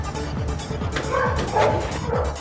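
A rescued street dog with mange gives a run of short, close yips and barks mixed with whimpering, and a person talks faintly in the background.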